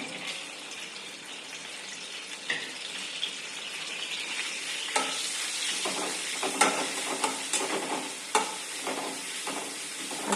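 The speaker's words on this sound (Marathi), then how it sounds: "तेल गरम झालं की त्याच्यात आलं आणि मिरचीचा ठेचा मी एकत्र केलेला आहे तो घालणार आहे" Crushed ginger and green chilli paste frying in a spoonful of hot oil, a steady sizzle that grows busier, with repeated spatula scrapes and stirring knocks close by.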